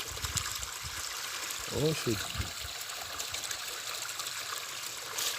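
Water gushing from a pipe damaged by Hurricane Melissa, a steady broadband rush that runs throughout, with someone speaking briefly over it partway through.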